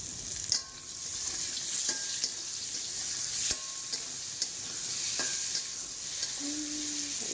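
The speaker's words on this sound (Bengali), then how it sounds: "কত বড় কড়াই রান্না হচ্ছে দেখুন" Steady frying sizzle from a large pan with occasional sharp clanks of a utensil stirring, continuous and close.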